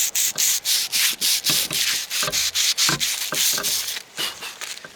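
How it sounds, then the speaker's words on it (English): Surface rust is scrubbed off Kubota backhoe pins in a quick, steady series of abrasive back-and-forth rubbing strokes, close and fairly loud, with no talk. "clean a little bit of the surface rust off them so that they'll slide in and out easy"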